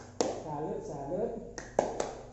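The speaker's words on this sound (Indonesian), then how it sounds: "Oke, saya apresiasi buat ibu-ibu semua dengan penghargaan tepuk salut." A group of women at a training session performs the tepuk salut clapping routine, with a few sharp, close claps in an uneven rhythm between stretches of voices.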